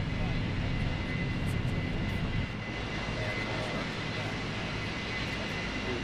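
Inside a passenger plane on a long flight, the aircraft engines drone steadily, loud at first and then a little quieter after a couple of seconds, with faint murmuring in the cabin.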